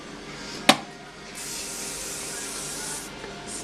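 Hairspray sprays onto hair during a bridal updo with heated rollers: a sharp click of the nozzle, then a long, steady, airy hiss lasting about two seconds, close and fairly soft.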